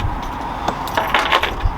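Keys jangle in a few quick metallic clinks and rattles as they are lifted, close and fairly crisp against a quiet background.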